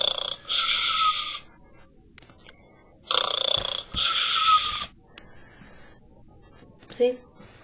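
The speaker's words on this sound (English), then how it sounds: "let's do a snore, maybe." A snoring sound effect plays back from a computer as two long, throaty snore bursts separated by a quiet pause, with a brief faint noise near the end.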